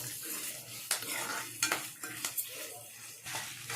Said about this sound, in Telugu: తర్వాత మినపప్పు వేస్తున్నానండి. బాగా వేయించాలండి.